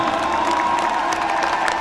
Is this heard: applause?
yes